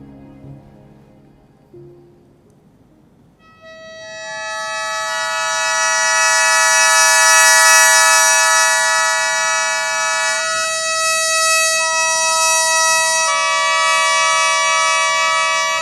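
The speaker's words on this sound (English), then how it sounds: "let's listen the sound of sho." A Japanese sho mouth organ swells in with a sustained, reedy cluster chord that grows louder and holds steady, preceded by a few faint low notes.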